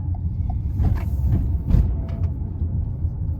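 Low, rumbling road noise from inside a moving Toyota Corolla Cross XR, with a few heavier suspension thumps and jolts as the wheels pass over uneven pavement.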